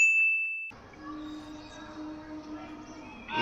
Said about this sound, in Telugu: ఈ రింగ్ టోన్ ఇంకా చూడండి